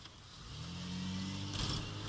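A car engine revs up as the vehicle accelerates, its pitch climbing steadily, heard from inside the car with no one talking.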